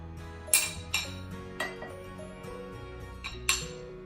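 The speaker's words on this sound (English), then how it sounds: "and then just add all the veggies" Chopped vegetables are tipped into a bowl, producing a few distinct clinks and clatters against dishware, spaced irregularly with quiet gaps between them.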